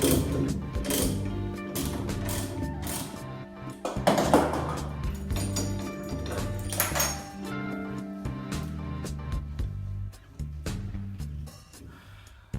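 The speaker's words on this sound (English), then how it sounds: "I actually have to use a Pidman arm remover now because this won't come off." A Pitman arm remover works on a vehicle's steering linkage, giving repeated close metallic clicks, ratcheting and clinks in an uneven rhythm, with no one speaking.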